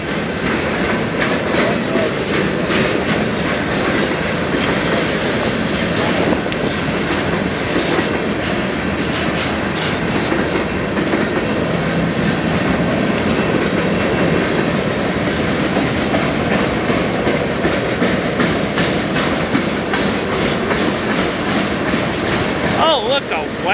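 A freight train of empty cars rolls steadily past, its wheels clattering rhythmically over the rails in a continuous, close rumble with occasional metallic squeals.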